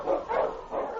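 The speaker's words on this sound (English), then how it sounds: "The Wonder Dog King, swiftest and strongest of Eskimo lead dogs" An Eskimo lead dog named King barks three times in a quick, even series, moderately close and clear, with no talk over it.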